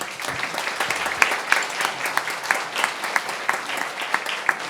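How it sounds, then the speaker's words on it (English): An audience at a school board meeting applauds students, a dense, steady round of clapping with sharp individual claps standing out, sustained for several seconds without talk. "Let's give these students a round of applause"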